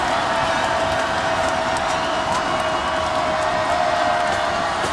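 A basketball crowd at a Gonzaga game against Washington roars in a dense, sustained wash of cheering and shouting that holds loud and steady throughout, with no single voice standing out.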